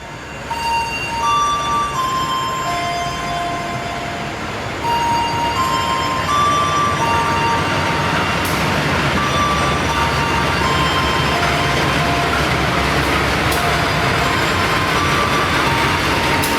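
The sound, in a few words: Pandalungan passenger train with CC201 locomotive arriving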